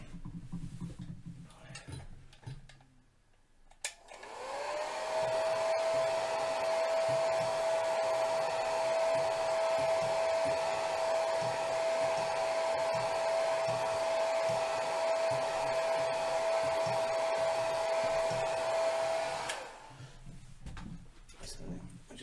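A hair dryer running steadily to dry paint on a figure painting, switching on with a clear whine that holds evenly for about fifteen seconds before cutting off, with faint voice-like sounds before and after.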